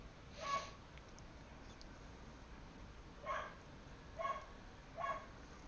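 Dog barks from the video game Path of Exile 2, four short separate barks spaced irregularly over a few seconds, fairly faint against a quiet steady background.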